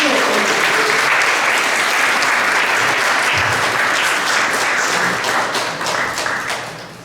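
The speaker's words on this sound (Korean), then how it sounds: "우리 총장님 박수로 한번 모시겠습니다" A church seminar audience gives a dense, loud burst of applause to welcome a seminary president, holding steady for several seconds before tapering off at the end.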